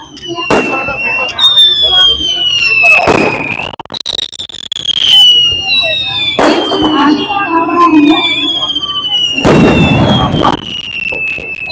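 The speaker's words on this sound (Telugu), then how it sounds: "ఫైర్ వర్క్స్ చూడండి పైన ఒకసారి టపాసాలు మన భాషలో చెప్పాలంటే టపాసాలు కలుస్తున్నారు" Fireworks go off at a university convocation celebration: loud booming bursts arrive every few seconds, with whistling rockets streaking between them and voices heard nearby.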